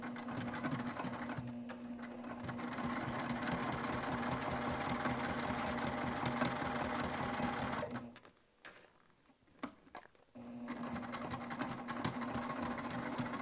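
A hand-cranked sewing machine stitches steadily through several thick layers with a folded seam allowance, a close rhythmic whirring and clatter that stops briefly near the end before resuming.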